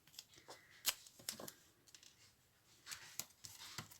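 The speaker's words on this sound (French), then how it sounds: "Je devrais pas les faire avec ces ciseaux, parce que ça, c'est mes ciseaux de couture." Sewing scissors snip through paper card while making a birthday card, a series of short crisp cuts at an uneven pace, close and quiet with no talking.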